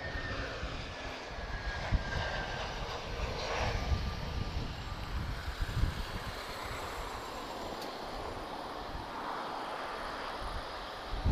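An airliner arriving at Lisbon Airport gives a steady, broad jet roar at moderate distance that swells slightly and then holds, with no talk.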